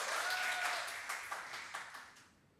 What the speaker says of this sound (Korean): 우리 박수 한번 쳐주시기 바랍니다